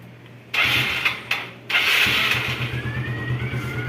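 A Yamaha Mio Sporty scooter engine with a newly fitted carburetor cranks in a couple of quick attempts, catches, then settles into a steady, quiet idle that runs on to the end.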